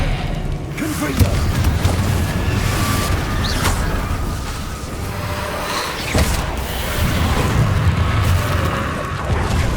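Confringo blasting spell cast in Hogwarts Legacy, a run of booming bursts and thuds in game combat, loud and close over a dense rumbling background, with voices underneath.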